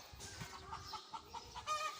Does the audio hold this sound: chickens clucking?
yes